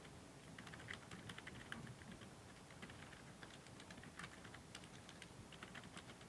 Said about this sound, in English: it's a little hard typing with this keyboard here.